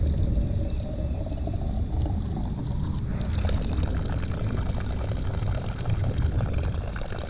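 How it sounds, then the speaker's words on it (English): Water gushes from a hand pump at the C&O Canal towpath in a steady rushing pour that thickens and brightens partway through, close and continuous. "this is how you pump water at the C&O Canal."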